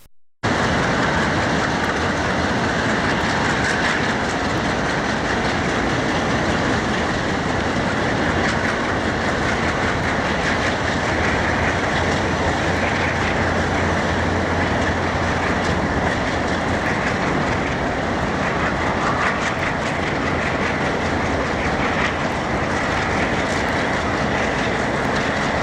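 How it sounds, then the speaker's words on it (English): Heavy BNSF freight cars clatter and rumble steadily as a DL3 locomotive sorts the train, with continuous wheel clickety-clack and a loud, unbroken rail roar throughout. "The DL3 continued to sort out its train"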